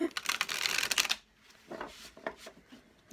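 A deck of large cards being shuffled by hand, a dense rapid riffle of card flicks for about a second, followed by quieter scattered taps and slides as the cards are handled, close up.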